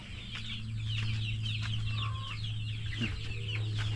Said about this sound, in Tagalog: Bumalik ulit yung manok.